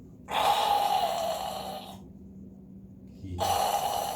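A person imitates the harsh, strained gasping breath of an airway blocked by the tongue falling back during sleep: two loud, raspy breaths close by, separated by a short pause.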